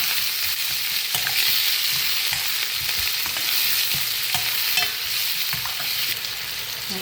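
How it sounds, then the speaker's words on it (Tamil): Ingredients for a drumstick leaf stir-fry sautéing in a pan: a continuous hissing sizzle with soft stirring knocks and scrapes, with no one talking. "இதுக்கு வச்ச பொருட்கள் எல்லாத்தையும் நான் வதங்குறதுக்கு போட்டுட்டேன்"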